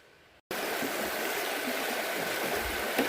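A river rushes steadily along the Appalachian Trail, a continuous broadband wash of flowing water that starts abruptly after a brief quiet moment and stays close and even throughout.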